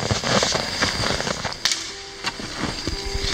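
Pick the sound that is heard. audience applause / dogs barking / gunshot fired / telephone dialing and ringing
gunshot fired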